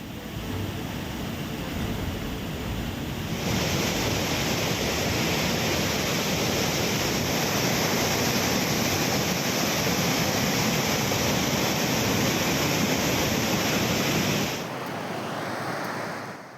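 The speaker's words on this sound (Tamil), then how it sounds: "மேற்கு தொடர்ச்சி மலையில் தொடரும் பலத்த மழை காரணமாக குற்றால அருவிகளில் 3வது நாளாக வெள்ளப்பெருக்கு நீடிக்கிறது" Flooding waterfalls at Courtallam in the Western Ghats after days of heavy rain roar as a dense, constant wash of rushing water, loud and unbroken throughout.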